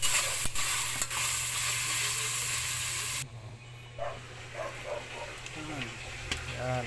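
Meat browns in a covered pan: a loud, dense sizzle fills the first half, then drops sharply to a quieter crackle with faint bubbling and scattered small pops.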